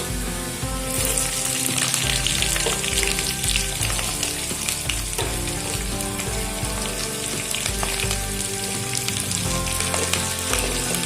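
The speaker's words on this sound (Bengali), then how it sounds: "এবারে পেঁয়াজটাকে একটু হালকা লালচে করে ভেজে নেব।" Chopped onions fry in oil in a pan with a loud, dense, continuous sizzle and crackle. Occasional stirring scrapes cut through the steady hiss.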